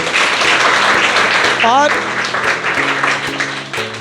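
Applause welcoming Sachin, a final selectee in the SSC CGL 2020 exam, rises as a broad, steady clapping wash beneath a voice speaking over it throughout.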